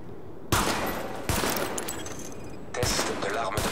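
Gunfire at highlighted targets in a weapons test in The Division video game, a few close, sharp reports spaced about a second apart, each with a noisy tail that fills the gaps.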